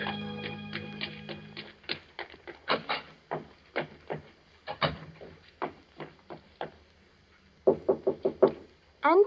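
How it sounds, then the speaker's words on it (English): Knocks on a door for an old-time radio mystery drama (1944): a series of close wooden raps in small groups, with faint voices and background sound in between. "I waited for her knock."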